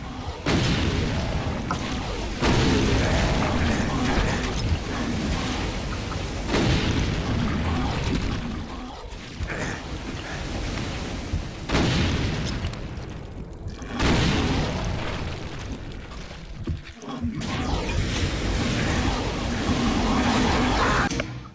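Grenades blast repeatedly in the Brutal Doom video game, heavy booming explosions rolling one after another over a dense, continuous roar of game action, loud and close with brief lulls between blasts.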